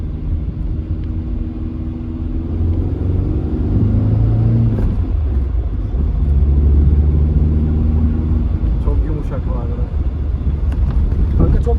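A flame-red 1999 car with a 1.4 engine runs with a loud, continuous low rumble and drone, the engine note rising slightly midway, heard close with people talking over it.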